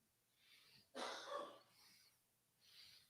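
A single sharp sneeze bursts out close by, with soft breathing sounds before and after it in a quiet room.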